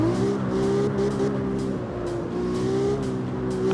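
Car with a swapped 2JZ engine revving hard in CarX Street, a loud steady high-pitched engine drone with slight pitch shifts as it pulls through the gears, no talk.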